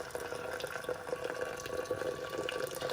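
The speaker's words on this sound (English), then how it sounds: "I have a boiling pot of water here. So I'm just going to go ahead and pour this over" Boiling water poured from a pot over roasted barley and honey, a steady close splashing and trickling pour that runs continuously without talk.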